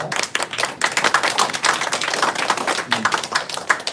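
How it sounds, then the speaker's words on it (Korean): Scattered hand clapping from a modest group at a candidate debate, welcoming a speaker, a busy patter of claps holding steady for several seconds with little talk. "박수로 전정식 소장님을 모시겠습니다."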